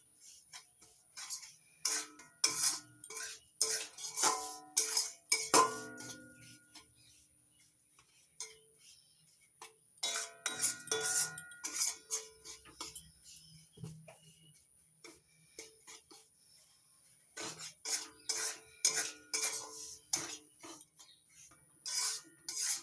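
Semolina roasting in ghee in a pan, heard as a spatula's irregular light scrapes and ticking clicks against the metal in short bursts with quiet gaps, close but soft.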